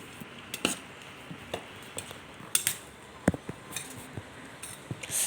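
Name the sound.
mixing mango with chilli and salt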